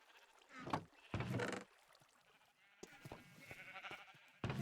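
Two short bleating calls from a Minecraft sheep, close and clear, followed by softer ambient game sounds and a final brief bleat at the end.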